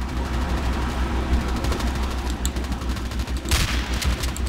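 Weapon fire in Battlefield 2, rapid repeated shots in a steady stream over a low rumbling background, with a heavier blast near the end; no one speaks.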